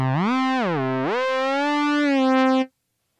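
Synthesizer note in MainStage bent down an octave and then up, a buzzy sustained tone that dips, rises and glides upward before stopping abruptly, played alone.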